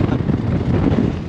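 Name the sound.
wind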